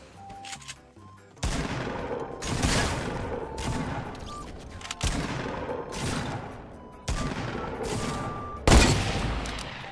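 Gunfire in the video game Fortnite, bursts of rapid shots and booming blasts in several loud volleys, close and punchy, with a faint beep at the start.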